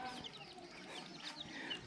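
Chickens cluck in a rural Lao village, soft, scattered calls sitting in steady outdoor background noise, some faint and distant, others a little nearer.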